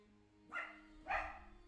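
A hunting dog in a moose-hunting video game barks twice, about half a second apart, sharp but fairly faint over a quiet background.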